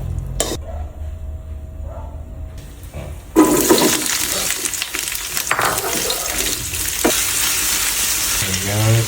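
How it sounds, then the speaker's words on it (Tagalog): Onions sauté in hot cooking oil for a quick tapa recipe, starting with a sudden loud sizzle that keeps frying steadily, with a brief clink before it and a scrape near the end. "Nagigisa na lang ako ng sibuyas"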